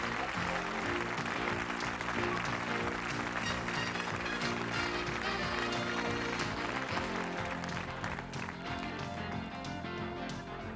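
Studio audience applause for contestants on a British game show, loud continuous clapping that carries through the whole stretch with a rhythmic pounding underneath, tapering slightly near the end.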